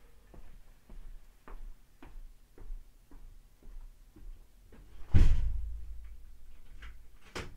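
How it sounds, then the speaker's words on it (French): Bookshop door being closed and locked: soft footsteps and light clicks lead up to a loud thump of the door shutting, followed by a faint latch click, with no talking. "Je vais aller barrer la porte."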